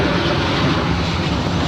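An Air Canada airliner rolls for takeoff on runway 24 left at LAX, its jet engines a loud, steady, broadband roar that holds constant throughout with no voices.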